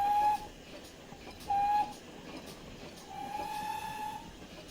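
A steam locomotive whistle in a train simulator game, a GWR Large Prairie tank engine, sounds in short, shrill toots: two quick blasts, then a longer one, over a steady rolling rumble of the train.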